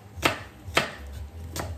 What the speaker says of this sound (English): I'm gonna slice a couple pieces a little bit thinner